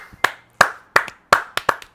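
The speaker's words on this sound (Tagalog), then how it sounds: "Uy, pumalakpak ka naman" A single person claps by hand, close and crisp: about seven sharp, separate claps in an uneven rhythm, some coming in quick pairs, with short silences between them and no voices.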